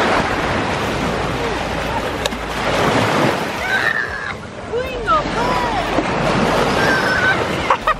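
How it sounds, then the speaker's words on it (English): Ocean surf at Destin Beach, breaking waves and sloshing water close to the microphone with some wind buffeting, while people talk and call out over the rolling wash. "Here comes some waves."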